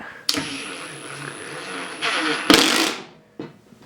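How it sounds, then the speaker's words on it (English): Ryobi brushless cordless driver driving a screw, with sharp mechanical jolts as it kicks into ratcheting; several loud close bursts of clattering impacts, the longest in the middle and a shorter one near the end. "And it just jolts right over to the ratcheting."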